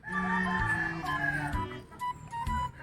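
Chickens clucking and calling close by, with a rooster-like drawn-out call at the start followed by short clucks and squawks, fairly faint against a quiet background.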